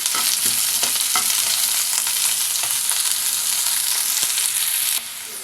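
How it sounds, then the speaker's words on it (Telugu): Onion pieces frying in a pan for a prawn and egg dish, a dense, steady sizzle with occasional scraping stir strokes, close and continuous until it drops quieter near the end. "ఇప్పుడు ఉల్లిపాయ ముక్కలు వేసుకుందాం ఈ ఉల్లిపాయలను బాగా వేయించుకుందాం"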